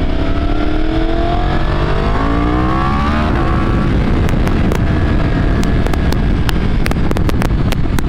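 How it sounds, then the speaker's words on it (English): Yamaha R1 motorcycle fitted with an M4 mid pipe exhaust, loud and close, engine climbing through hard revs with rising harmonic sweeps, then a rough crackling burble with sharp pops and backfire cracks, under heavy wind buffeting. "this is why people buy an R1. I think these are the best sounding engines"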